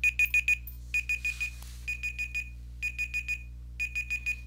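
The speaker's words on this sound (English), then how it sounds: "that beeping tells me that I should probably end the video" Electronic alarm beeping from a fantasy adventure computer game, in quick bursts of four or five sharp, high, even beeps, repeated about once a second over a steady low hum.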